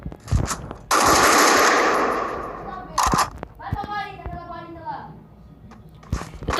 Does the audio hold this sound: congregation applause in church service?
no